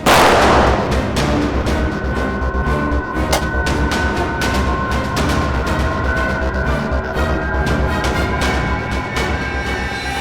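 Dense, continuous gunfire with rapid sharp cracks layered over a loud rumbling roar, sustained throughout without pause.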